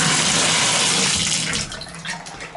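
Water pours steadily from a tap in a house and drains away, a loud, even rush for the first second and a half that then thins and softens slightly.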